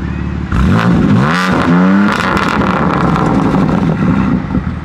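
BMW M3 G80 exhaust with the valve open, a loud close rev that climbs and falls in pitch before settling into a rough, burbling idle.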